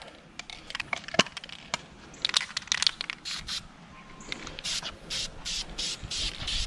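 An aerosol can sprays a second coat of paint onto a tow hook on a supercharged Ford F150, with short hissing bursts mixed with clicks and rattles, fairly close and moderately quiet.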